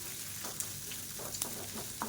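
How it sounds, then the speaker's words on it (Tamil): Small onions sizzle softly in a hot pan for a Karthigai Deepam offering, a steady quiet crackle of frying broken by brief scraping stirs. "இப்போ இந்த வெங்காயம் நல்லா அப்படியே செவந்து வரட்டும்"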